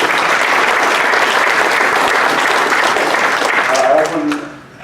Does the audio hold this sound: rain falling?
no